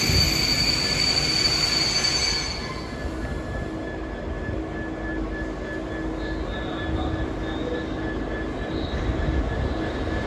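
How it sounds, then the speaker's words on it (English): A DB freight train hauled by Class 66 locomotive 66054 rolls through Exeter St Davids station, a steady broad rumble of wagons with a louder opening and faint wheel squeal, continuous and close throughout. "Quite rare to see a freight come from this way."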